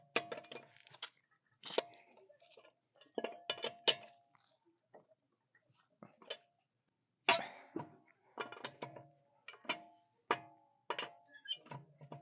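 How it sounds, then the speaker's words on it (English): Metallic clinks and rattles from a wrench working the lug nuts loose on a Toyota Sienna wheel while it sits on a jack, coming in short separate bursts with quiet gaps between them. "I go ahead and loosen up on the lug nuts"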